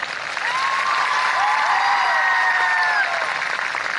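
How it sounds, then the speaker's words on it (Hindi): A crowd at a public event in Jaipur applauds to welcome the chief minister with sustained, dense clapping, while faint whistles or cheers rise over it. "मैं एक बार माननीय मुख्यमंत्री महोदय को जोरदार तालियों के द्वारा आप सबकी तरफ से स्वागत करना चाहती हूँ।"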